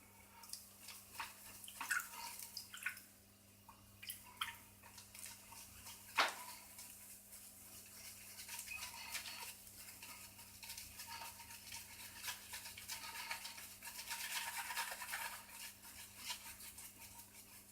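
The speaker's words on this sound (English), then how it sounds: "I just basically wanted to work lather down into the knot." A shaving brush churns lather from Mama Bear Lime Ice soap in quiet, wet, squelching swirls and dabs, faint and close, with occasional light knocks against the bowl.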